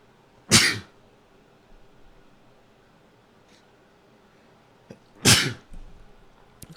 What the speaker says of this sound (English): Apologies, a little sneeze attack,